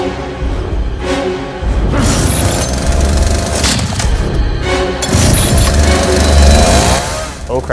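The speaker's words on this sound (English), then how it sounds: "Oh crap, he just started his chainsaw." A chainsaw starting up and revving in loud, rough bursts, close by and harsh, with people's voices mixed in between the engine surges.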